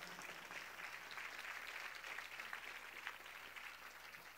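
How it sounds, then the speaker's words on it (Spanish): A church congregation applauds two people, Samuel and Tomás, with steady mid-distance clapping from many hands, fairly quiet and even throughout, with no speech over it. "¿Por qué no damos un aplauso a Samuel y Tomás?"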